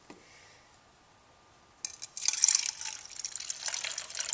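Milk poured onto a loudspeaker, a faint click followed by a soft splashing, trickling pour that starts about two seconds in and continues unevenly.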